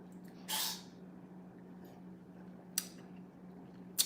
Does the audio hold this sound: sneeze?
yes